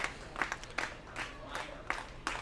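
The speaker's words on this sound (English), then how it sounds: "The slow clap slowly starting again." A baseball crowd builds a slow, steady clap, evenly spaced claps rising from the stands at a moderate distance, with faint crowd murmur beneath.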